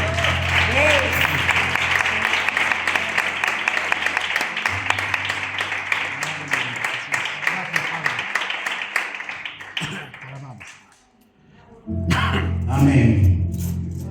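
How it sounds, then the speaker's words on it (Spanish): A church congregation bursts into loud, sustained applause that holds steady for about ten seconds, then fades into a near-silent pause before voices and noise rise again. "Dale, iglesia, un fuerte aplauso para Dios"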